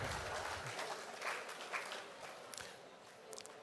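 Faint applause from the audience at the official release of 2019 CXC exam results, a soft wash of clapping that gradually thins out, heard from a distance at low level.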